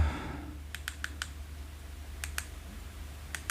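Buttons on the keypad of an iRadio DM-UV4R handheld radio are pressed to enter a frequency, giving crisp, quick clicks in an uneven cluster, then a pause, then a few more near the end.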